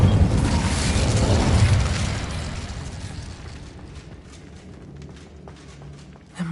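An Incendio fire spell from a Harry Potter game bursts out as a loud, roaring blast that rumbles for about two seconds, then fades into a low crackling tail with faint footsteps.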